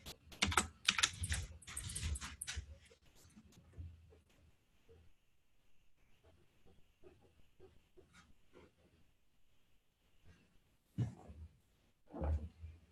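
Quick bursts of typing on a computer keyboard, a dense flurry of clicks at first, then sparse scattered keystrokes, with another short burst near the end, all close and fairly quiet.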